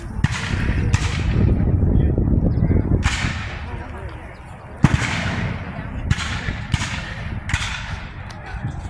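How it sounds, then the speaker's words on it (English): Musket volleys at a Civil War battle reenactment in an open field: a string of sharp outdoor cracks, some overlapping and echoing into the distance, over a steady background rumble of crowd and wind. "the Confederates had more like realistic sounding musket"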